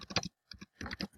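Keys clatter on a computer keyboard in three short bursts of quick typing separated by brief pauses, close and fairly clear.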